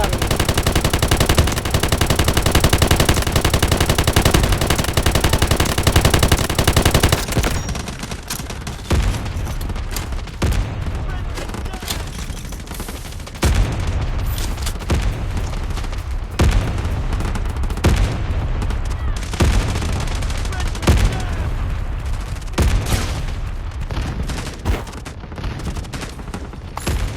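An artillery barrage and gunfire rage in the Delta Force Mobile game, beginning with a dense, loud roar of sustained fire and then breaking into repeated sharp bursts and booming impacts, near and far, continuing without letup.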